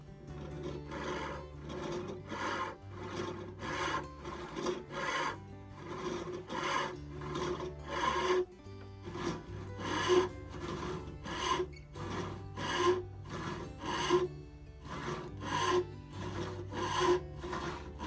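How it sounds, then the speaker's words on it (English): A card scraper is drawn in rhythmic strokes along wooden cross peen hammer handles, each pass giving a close, raspy scrape, repeated steadily and alone without talk. "So now I've finished card scraping both of them."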